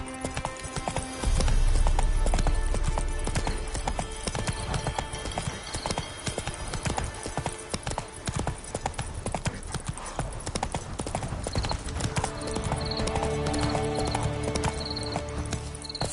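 Hooves of a horse galloping in the video game The Witcher 3 on PS5, a steady rapid clip-clop rhythm running throughout, close and loud, with an occasional whinny over a game soundtrack.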